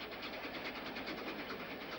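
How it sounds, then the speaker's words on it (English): A Black 5 steam locomotive heading northbound crosses a railway bridge over a road, a faint, steady rolling rumble with rhythmic wheel beats. "a northbound Black 5 crosses Bridge 561 and then Bridge 560 over the road towards Buckingham"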